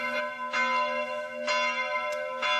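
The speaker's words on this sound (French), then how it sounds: "les cloches sonnaient 24 heures sur 24, 7 jours sur 7" Village church bells ringing in steady repeated strikes about once a second, each toll leaving a sustained harmonic hum that carries between strokes, loud and close with no voices.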